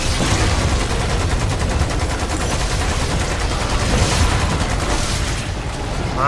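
Machine gun fire in the video game Lost Planet 2, a loud, sustained rattle of rapid automatic shots that continues throughout with little pause.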